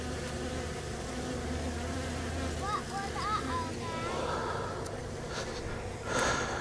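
Package bees being installed hum in a steady, close buzz that fills the clip, with occasional soft breathy sounds and a brief louder swell near the end.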